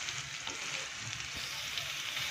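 Ground turmeric, green chili and garlic paste frying in hot oil, a soft continuous sizzle with faint stirring, fairly quiet and steady.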